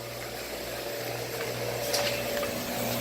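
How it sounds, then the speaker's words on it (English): The booster pump of a whole-house reverse osmosis system in Arroyo Grande, California, runs with a steady low mechanical hum and a faint whir, continuous and unchanging throughout. "that's then being fed to a booster pump that repressurizes that water"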